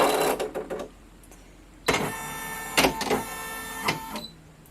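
An embroidery machine switching on: whirring, beeping mechanical bursts from the machine starting up, alternating with quieter pauses, close and fairly loud.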